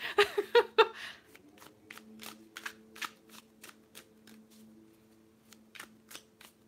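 An oracle deck is shuffled and cards are pulled, starting with a few sharp riffling bursts, then a long run of quick, close, soft card flicks with brief pauses, under a faint steady hum.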